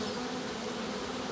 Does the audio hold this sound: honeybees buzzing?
yes